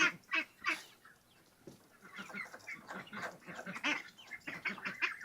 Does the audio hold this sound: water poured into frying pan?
no